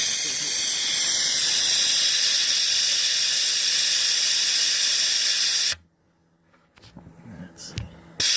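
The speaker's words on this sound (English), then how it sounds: "by applying air pressure, you're creating a vacuum which sucks down the system" Coolant flush vacuum tool on a Pontiac Fiero cooling system, giving a loud, steady hiss of air for several seconds that cuts off abruptly, followed by quiet clicks and faint handling noise.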